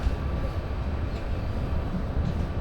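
A train pulls into a small railway station on a mountain ghat line, a steady low rumble of wheels and carriages rolling continuously at moderate loudness with no voices.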